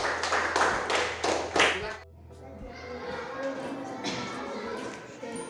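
A classroom group briefly applauds a student group, a short burst of clapping for about two seconds that stops abruptly, followed by quieter room sounds and light shuffling.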